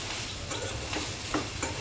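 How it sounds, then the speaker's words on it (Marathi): Ridge gourd (padwal) roasting in a little oil in a pan, a steady soft sizzle with faint scraping stirs now and then, close and fairly quiet, no voices. "पडवळ भाजायला त्यावर जरासं तेल घालायचं सगळं पाणी सोकलं की नाही तेल घालायचं छानपैकी भाजून घ्यायचं"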